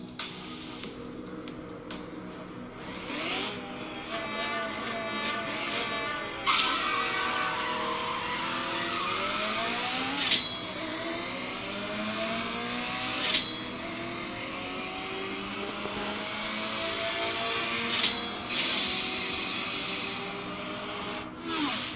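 Race cars in the mobile game CSR Racing 2 accelerate hard, their engines revving up in rising sweeps broken by sharp gear shifts, loud and continuous with a hiss underneath.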